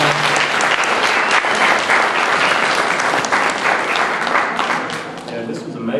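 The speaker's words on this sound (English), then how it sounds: "Let's give our panelists another round of applause" An audience applauds panelists steadily, dense clapping filling the whole stretch and tapering slightly at the end.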